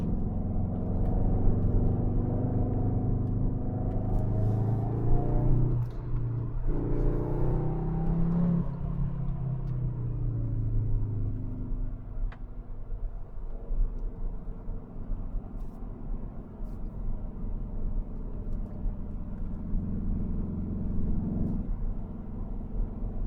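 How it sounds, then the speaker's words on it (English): A Cupra Leon accelerating on the Klausen Pass alpine road gives a steady low engine drone that swells and climbs in pitch through the middle, then settles back into an even rumble. "if you step on the throttle, the sound is almost alright, wouldn't you say?"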